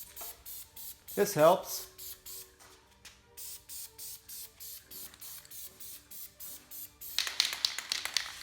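Aerosol spray paint going onto plastic wheel center caps as a second coat, outdoors in cool mid-50s weather: a steady run of short, rhythmic hissing bursts from the can, with a brief spoken remark near the start.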